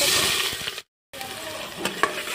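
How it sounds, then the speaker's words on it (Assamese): Onions fry in refined oil inside a pressure cooker with a close, steady sizzle and stirring scrapes, broken by a short silent gap partway through. "পিঁয়াজখিনি অলপ ভাজি লৈ আছোঁ"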